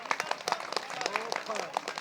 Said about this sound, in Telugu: అందరూ ఎంత క్లాప్స్ కొట్టండి